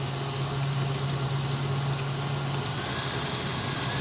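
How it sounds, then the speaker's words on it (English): A handheld electric mixer runs steadily at top speed in a kitchen, a constant close whirring drone with a high whine, no talking. "just turn up the handheld mixer and speed it up even more"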